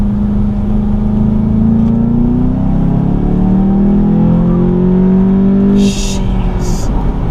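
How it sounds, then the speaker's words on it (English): A 2020 Volkswagen Jetta GLI engine hums steadily at close range, accelerating hard in second gear, its pitch slowly climbing, loud and continuous with a few faint clicks near the end. "I'm gonna see if I can give it a good launch here"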